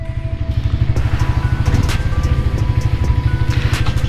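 A Suzuki GSX-S150 motorcycle engine drones steadily with a close, pulsing low rumble, dipping briefly as the throttle closes for a clutchless upshift, then pulling again at around 5,000 rpm.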